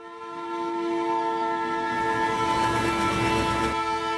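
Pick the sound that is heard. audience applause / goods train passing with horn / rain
goods train passing with horn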